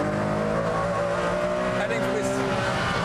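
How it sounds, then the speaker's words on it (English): A Ferrari Enzo powering out of a corner, its engine howling loud and close with a rising, strained tone and faint tyre squeal, continuous throughout. "And now the car leaps out of that corner."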